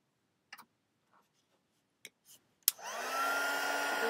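A hair dryer switches on after a few faint handling clicks and taps, then blows in a steady, close broadband whoosh with a rising motor whine, drying a stack of craft paper pieces.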